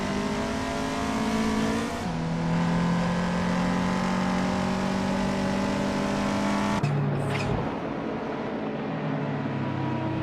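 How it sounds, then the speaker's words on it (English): Cars race in a video game with a continuous loud engine drone that shifts pitch through gear changes, an abrupt change at one point, and a brief whoosh as a car passes. "Turbo Benzina just snuck into 4th place, leaving Schoolbus Rustev in the dust"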